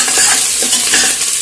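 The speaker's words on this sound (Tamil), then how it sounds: "இப்போ இது நல்லா ஃப்ரை ஆயிடுச்சு." A pan sizzles steadily while pot appam is made in the Kerala style. Soft, repeated stirring scrapes sit over the continuous bright frying hiss, close and alone with no talk.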